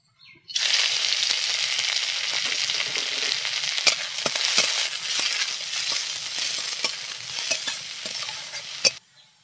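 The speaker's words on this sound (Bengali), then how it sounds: "এখানে পেঁয়াজ আর কাঁচা লঙ্কা কুচি করে নিয়েছি, এটা এখন দিয়ে দেব।" Chopped onion and green chili fry in hot oil in a kadai, a steady loud sizzle with scattered crackles and stirring scrapes running unbroken for about nine seconds.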